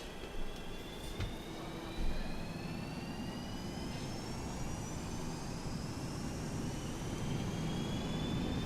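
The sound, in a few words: Boeing 737-200 jet engines at takeoff thrust, X-Plane video game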